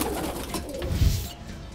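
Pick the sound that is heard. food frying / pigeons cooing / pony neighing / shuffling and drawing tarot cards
pigeons cooing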